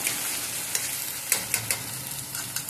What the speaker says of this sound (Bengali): পরিমাণ মতো নুন দিয়ে এবারে সমানে এটাকে নাড়তে থাকবে যতক্ষণ না কড়াই থেকে